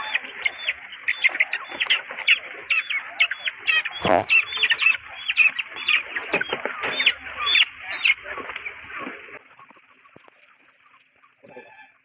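Chickens and chicks for sale at the Peruvallur market cluck and cheep in dense, rapid overlapping bursts, loud and close at first, then thinning out and fading toward the end.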